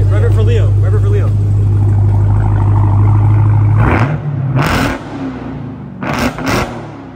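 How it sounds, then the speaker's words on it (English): A brand-new widebody Dodge Challenger Hellcat idles with a loud, deep rumble and a whining note, then revs in a few sharp bursts, with people talking and exclaiming over it. "Yo, rev it for Leo."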